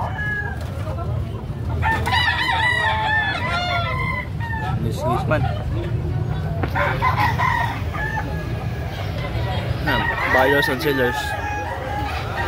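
Roosters crow repeatedly at a crowded rooster expo in Carbon, Cebu, their calls rising over constant crowd chatter and people talking nearby, with several crows overlapping across the scene.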